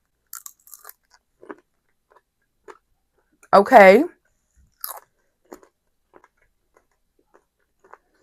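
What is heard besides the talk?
biting and chewing crunchy freeze-dried baked cheese snacks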